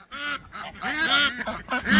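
A domestic goose on a homestead honking near a pond, a loud close burst of several rapid, nasal honks and squawks in quick succession.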